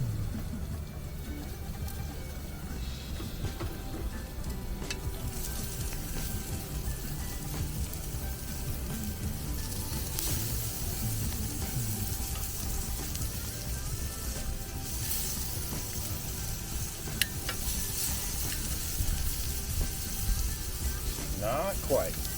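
Steak sizzling on a grill at a campsite, a steady, close crackling hiss that runs throughout with little change, while a person talks over it.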